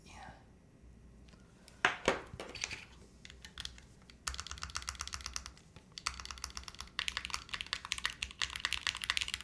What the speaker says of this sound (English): Overall, I think it's a very pleasant sound to the keyboard.